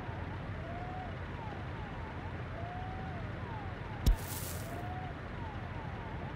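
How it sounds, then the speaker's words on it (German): A distant ambulance siren in the city-building game Workers & Resources, a faint repeating wail rising and falling under a constant hum of game ambience, with one brief sharp click midway. "Du hörst ja schon den Krankenwagen im Hintergrund."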